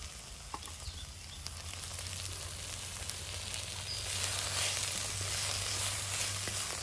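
Drumstick flowers and tomato fry in a pan with a continuous hissing sizzle that grows a little louder and fuller partway through, with faint stirring.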